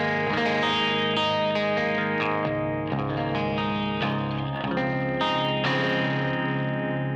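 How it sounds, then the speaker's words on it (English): Electric guitar played through a Myth Drive pedal, an emulation of the Klon Centaur, set for a gritty rhythm tone: loud, sustained overdriven chords ring continuously with fresh strums every second or so, with no talking. "This is the Myth Drive, which is an emulation of the Klon Centaur"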